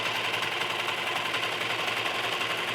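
A sewing machine stitches the inseam of small doll pajama pants in one long straight seam, a close, steady rapid whirring rattle that runs evenly without pause.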